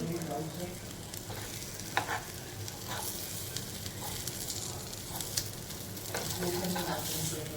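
Stuffed okra masala (bharli bhendi) fries in a pan with oil, giving a steady, close sizzle with small pops and occasional scrapes of stirring. The sizzle runs throughout the clip.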